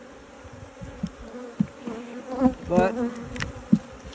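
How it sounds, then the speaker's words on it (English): Honey bees buzzing in an open hive, some carrying pollen on their legs: a close, continuous droning hum that swells and wavers, with a brief spoken word over it. "I am seeing some bees in here with pollen on their legs, going to store it for the babies about to hatch."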